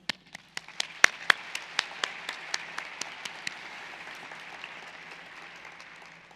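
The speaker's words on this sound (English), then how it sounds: "Let's give a big round of applause to these remarkable members of our community." Applause from an audience at a psychology society's presidential plenary, with a few loud individual claps standing out early before settling into a steady, moderate wash of clapping that slowly fades.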